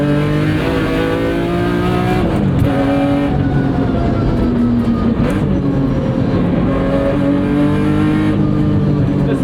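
A track-built BMW E46 M3 revs hard up through its gears. Its loud engine note climbs in pitch, drops briefly at each quick shift, then rises again, repeating several times in close succession with no talk over it.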